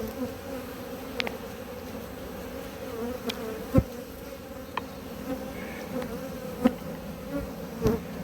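Agitated honeybees buzz steadily at an apiary hive during spring varroa treatment, a continuous close drone with a few sharper clicks and knocks over it.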